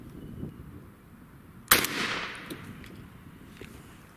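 A single sharp gunshot fires at a target during crow hunting. It cracks loudly out of a quiet outdoor background, and a short decaying echo follows.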